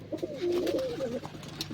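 Domestic pigeons being set loose onto their perch coo softly and steadily, a close, low warbling call running through most of the moment with no talk.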